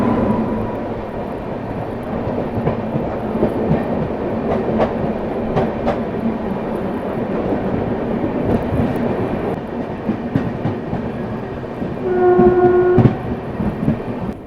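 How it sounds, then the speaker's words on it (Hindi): Train 12033 Kanpur–New Delhi Shatabdi Express rolling past at a slow crossing, a loud sustained rumble of wheels and carriages with scattered rail clicks, and a brief horn near the end. "तो सामने से आ रही है 12033 कानपुर न्यू दिल्ली शताब्दी एक्सप्रेस"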